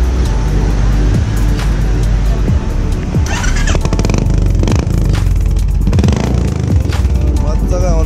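A Royal Enfield Bullet motorcycle's engine and silencer thump loudly and continuously while riding, with road and wind noise throughout and voices mixed in.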